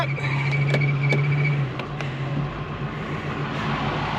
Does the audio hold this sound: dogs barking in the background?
no